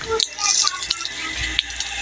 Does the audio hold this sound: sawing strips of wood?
no